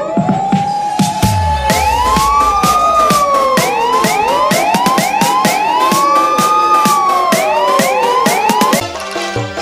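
A toy fire truck siren wails in rising and falling electronic sweeps, loud and close, with sharp clicking pulses throughout before cutting off near the end.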